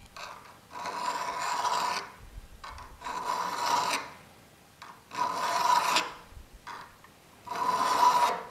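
A Forstner bit clamped in a vise being sharpened on its other cutting edge, heard as four long, steady rasping file strokes, each about a second or more, with short pauses between, close and loud, no speech.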